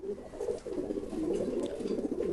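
Pigeons cooing close by, a continuous run of soft, throaty, overlapping coos with no voices.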